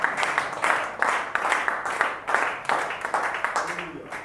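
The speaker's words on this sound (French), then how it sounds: "Donnez-lui des mains d'acclamation." Church congregation clapping in rhythmic bursts of hand applause during worship, moderately loud and steady, with voices mixed in underneath.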